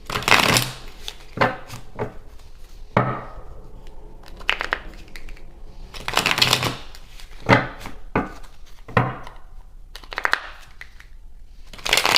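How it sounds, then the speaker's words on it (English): Tarot cards being shuffled in several quick riffling bursts with pauses between them, close and crisp, and no talking. "3 shuffles and a cut"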